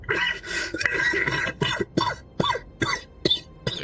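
Player character in a VRChat roleplay voicing a coughing fit: a rough, continuous hacking run followed by a string of sharp, separate coughs spaced about half a second apart, close and fairly loud.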